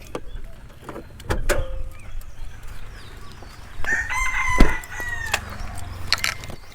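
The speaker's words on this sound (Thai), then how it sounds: "กระจกไฟฟ้าทำงานครบ ปรับข้างทำงานครบนะครับ" Electric power windows on a Nissan Navara pickup whir up and down in short motor runs, with a rooster crowing and fowl clucking nearby outdoors.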